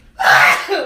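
One abrupt human sneeze bursts out with a sharp explosive onset and a short breathy tail, loud and close.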